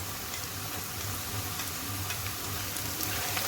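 Garlic sizzles with onions in a frying pan, a steady soft crackling hiss that carries on without a break and without speech.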